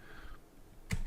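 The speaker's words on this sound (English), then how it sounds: "we'll just go ahead and we'll type in Steve" Typing on a computer keyboard into a login form, soft faint clicks followed by a sharper burst of keystrokes near the end, quiet and close with no talking.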